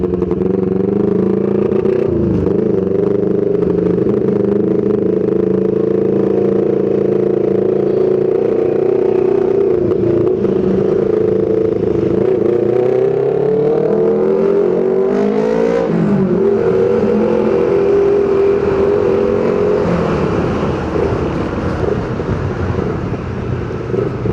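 Honda PCX160 scooter engine while riding, a steady loud drone that rises and falls in pitch as the throttle changes, with wind rush and road clatter underneath throughout.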